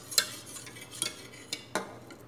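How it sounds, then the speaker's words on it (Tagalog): Spoon stirring a homemade dessert mixture in a pot, heard as a few soft, distinct scrapes and clinks against the pot at irregular intervals over a quiet background. "Haluin natin na mabuti para pantay."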